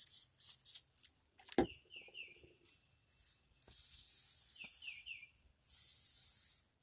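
A spray bottle mists water onto wood in short hissing bursts. Several quick pumps come first, then longer sprays, all close and faint, with soft chirping sounds between them.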